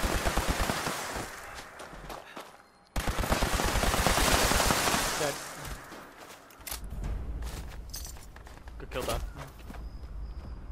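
Gunfire in the online shooter Fallout 76 rings out as dense bursts of rapid shots, loud and close, breaking off and resuming across the stretch while voices talk over the action.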